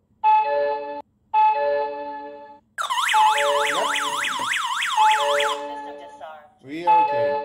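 Digoo DG-ZXG30 alarm system sounding during a sensor test: two steady electronic beeps, then a loud, rapidly warbling siren for several seconds, followed by another beep.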